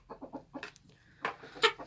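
Hens clucking in short bursts, several calls in quick succession with a louder squawk near the end, close by.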